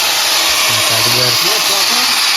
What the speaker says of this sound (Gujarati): નટ બોલ્ટ કાપવાનું કામ ચાલુ છે।